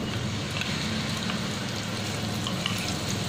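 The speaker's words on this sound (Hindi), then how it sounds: "और अब मैं इसमें डालूंगी दही और क्रीम, जो मैंने आपस में फैट ली थी" Whisked curd and cream go into a hot pan for vrat-style shahi paneer made without onion or tomato, giving a constant close sizzle with soft stirring scrapes and no voices.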